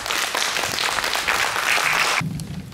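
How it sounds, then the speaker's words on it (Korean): Lively audience applause greets a guest speaker at a graduation lecture, loud continuous clapping for about two seconds, then cutting off abruptly. "힘찬 박수로 윤기 이사님 모시겠습니다."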